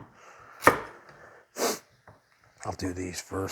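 Carrots being chopped for a soup: one sharp knife strike on a board rings out close and loud, followed by a breathy sniff and a stretch of voiced sound at the end.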